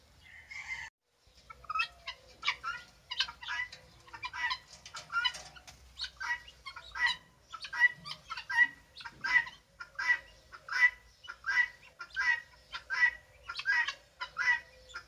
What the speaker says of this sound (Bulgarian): ето тук още едно петле, черно с кокошчица, това са малки петлета, джинки и кокошчица джинка.